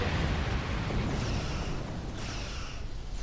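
Mines detonating in the space combat game Star Trek Online, a sustained low rumbling roar of overlapping explosions that stays loud across the whole stretch and fades slightly toward the end.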